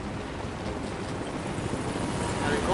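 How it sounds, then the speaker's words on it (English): Helicopter in Rise of the Tomb Raider, a steady broad rotor and engine rumble that holds throughout and swells slightly toward the end, with a voice faintly present. "Helicopter."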